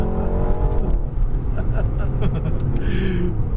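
A 2018 Lexus LC 500 roars through a burnout, its loud engine and tire noise sustained and steady throughout, with voices talking faintly underneath.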